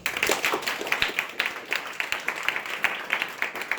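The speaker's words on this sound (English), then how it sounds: "Let's give these guys one more round of applause." Audience applause after a blockchain panel, an uneven patter of fewer hands clapping with distinct individual claps audible, moderate in level and tapering slightly over the stretch.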